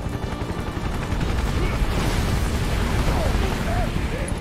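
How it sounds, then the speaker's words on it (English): Bombing run explosions in the video game Final Fantasy VII Remake, a dense rumbling barrage of blasts and gunfire-like bursts that continues without a break, with faint voices underneath. "A bombing run?"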